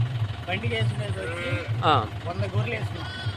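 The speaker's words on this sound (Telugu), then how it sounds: "తొంభై తొమ్మిది గొర్రెలు ఒక పొట్టేలు" Sheep bleat repeatedly, several wavering calls overlapping, while someone talks and a low engine hum runs underneath as the flock is loaded onto a vehicle.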